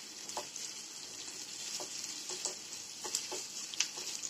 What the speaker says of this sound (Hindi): आप यहाँ पे गैस का फ्लेम जो है वो हाई रख सकते हैं क्योंकि इसको ज्यादा फ्राई करके लेना है